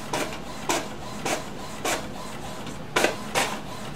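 An HP Officejet Pro 8620 inkjet prints in short, evenly spaced bursts, six brief swishing carriage passes over a soft steady hum, fairly close and moderate in level.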